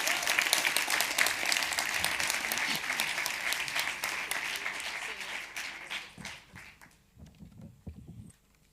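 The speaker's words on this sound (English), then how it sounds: "Yes, give them an applause." Loud, dense applause from an audience at an event recording, a continuous wash of clapping that thins out and fades toward the end.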